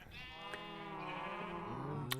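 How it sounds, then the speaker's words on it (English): A sheep bleats in the Minecraft video game, a long wavering cry with a rising tone near the end, heard alone and fairly close. "In here it looks like he's got all the sheep with different colors."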